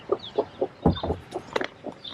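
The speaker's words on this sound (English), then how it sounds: "He loves coming out to see the chickens." Backyard chickens, a hen with newly hatched chicks nearby, cluck in a run of short, close, uneven clucks and a few sharper squawks, with no talking.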